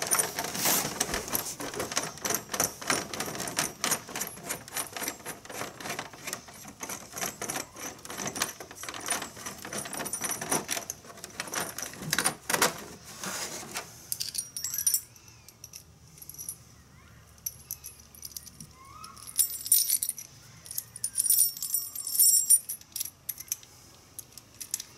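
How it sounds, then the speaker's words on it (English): Small metallic clicks, scrapes and rattles of screws being taken out of an animatronic during restoration, busy and close for the first half, then sparser, quieter handling noises. "I'm going to go ahead and take these screws all the way out."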